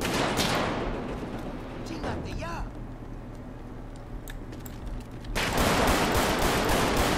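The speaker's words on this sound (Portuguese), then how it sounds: "Nossa, que tiro foi esse no miolo?" Gunshots in GTA 5 during a police operation at a scrapyard, with a voice heard now and then: scattered sharp reports early on, then a loud sustained volley that breaks in near the end.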